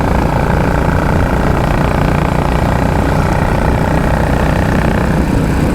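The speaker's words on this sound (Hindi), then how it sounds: "गाइस यार इसका हेलीकॉप्टर वाला साउंड आपको कैसा लग रहा है" An unmodified Royal Enfield Classic 350 motorcycle engine runs steadily, a loud continuous chugging thump with a throbbing, helicopter-like beat, close and alone throughout.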